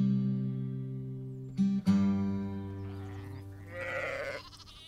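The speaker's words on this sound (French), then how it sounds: "Ces moutons de Salena que je vois gambader autour du chalet au printemps" Sheep of the Salena breed bleat near a chalet in spring, several sustained nasal calls overlapping close by, with a brief gap before a louder bleat and softer rustling behind.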